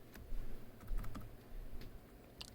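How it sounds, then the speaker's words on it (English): Typing on a wireless keyboard for a Raspberry Pi 4 makes quick soft key clicks in short irregular runs, close but fairly quiet against low background noise. "especially if you have a nice wireless keyboard"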